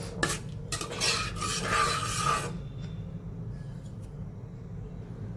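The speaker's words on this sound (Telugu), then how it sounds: "నీళ్ళు పోసుకొని మళ్ళీ ఒకసారి కలిపేసుకొని మొత్తం" A spoon stirs chana dal and onion curry in a pot after water is added, giving a few seconds of close scraping and sloshing, then fading to near quiet.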